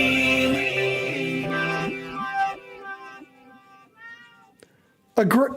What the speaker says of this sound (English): And then the cat meows.